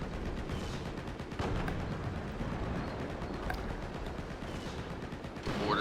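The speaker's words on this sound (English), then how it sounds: "Mortar going in" Mortar fire rumbles in Company of Heroes 2 within a steady battle din of gunfire, with dull impacts layered over continuous crackling shots.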